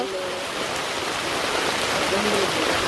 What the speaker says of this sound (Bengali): কিন্তু তারপরে হঠাৎ করে কই থেকে জানি বৃষ্টি নামলো